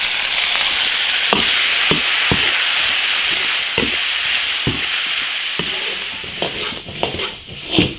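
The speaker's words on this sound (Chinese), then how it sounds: "羊肉卤过，稍炒一下就行了。" Lamb stir-fried with ginger, Sichuan peppercorn, chili, spices and hotpot base in a large iron wok, a constant loud sizzle broken by a series of sharp spatula scrapes and knocks, about one every half second, with no talking.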